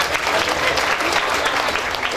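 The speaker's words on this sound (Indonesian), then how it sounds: "Tepuk tangan buat kita semua dulu." Crowd applause at a gubernatorial campaign rally in Kupang, NTT: loud, dense clapping from many people, steady and unbroken throughout with a faint murmur of voices mixed in.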